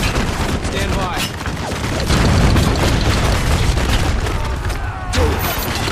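Rapid gunfire and heavy booming explosions from mortar fire in the war shooter Spec Ops: The Line, a dense, loud barrage with faint voices mixed in.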